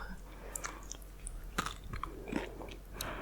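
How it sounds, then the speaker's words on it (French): Crunchy chewing of raw shortbread dough, with several close, soft bites and crisp crunches scattered over a few seconds in a quiet room. "j'ai pas pu m'empêcher de goûter. Et genre ça fait un petit son croustillant et tout."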